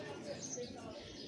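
Pigeons at a home loft coo softly in short, low calls, partly buried under close conversation and steady background noise.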